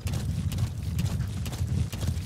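Horse hooves clip-clop in a steady galloping rhythm inside the video game Metal Gear Solid V: The Phantom Pain, fairly loud and continuous over a low rumbling bed, with no talking.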